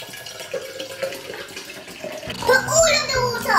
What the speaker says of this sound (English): Put all of the water.